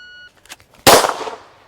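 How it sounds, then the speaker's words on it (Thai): A pistol is drawn from a Kydex holster and fired: a few soft clicks and rustles, then one loud, sharp shot that rings out and decays over about a second. "จะให้ดูเวลาที่หยิบปืนขึ้นมาแล้วยิงเลยนะฮะของซองนี้นะครับ"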